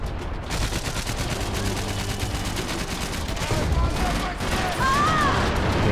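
M4 rifle fire in a Max Payne 3 multiplayer match, a dense stream of rapid close shots with rumbling explosive booms and game effects, a voice briefly heard near the end.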